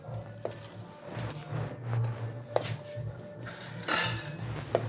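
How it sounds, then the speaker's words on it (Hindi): Melon seeds, sesame and almonds are dry-roasted in a kadhai, with a spoon scraping and clinking against the metal pan in irregular strokes and soft seed pattering in between. The sound is fairly faint. "अब इसी कढ़ाई में ये चारे मगज़ और तिल ये भून लेंगे। अब ये बादाम भी साथ ही डाल देंगे।"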